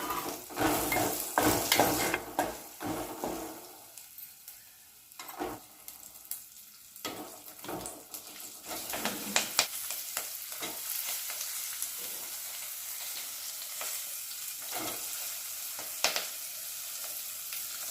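Onions and green chillies fry in a pan for a budama kaya dal, with loud scraping stirs at the start, then softer sizzling and intermittent spoon strokes against the pan.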